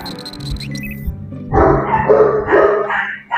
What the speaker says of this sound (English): I am so sorry about my dogs.